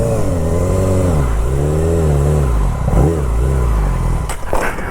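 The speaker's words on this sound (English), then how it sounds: "I feel like the bike's running funny today." Close by, a motorcycle engine idles and revs in wavering surges, its pitch rising and dipping unevenly as the bike runs roughly in a parking lot, with a short clatter near the end.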